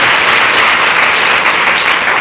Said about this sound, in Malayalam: സമ്മതിക്കുന്നവരൊന്ന് കൈയടിച്ചു കേട്ടാൽ